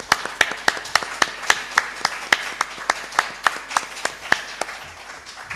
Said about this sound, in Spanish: Vamos a darle una vez más un fuerte aplauso